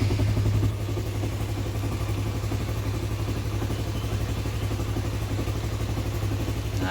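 A Honda CB150R motorcycle engine idles nearby, a steady low rumbling thrum with a light mechanical clatter that continues evenly throughout.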